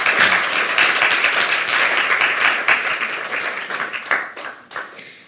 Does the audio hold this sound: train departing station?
no